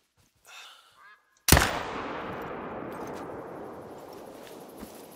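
A single loud rifle shot fired at a lion in Hunter Call of the Wild, a sharp crack followed by a long fading echo, after a brief stretch of quiet animal calls.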